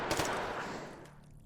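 Rifle fire in a video game, a quick pair of close sharp shots at the start with a brief decaying tail, fairly quiet overall, no voices.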